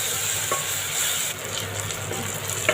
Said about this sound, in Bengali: রসুন বাটাটা ভালো করে ভেজে নেব পেঁয়াজের সাথে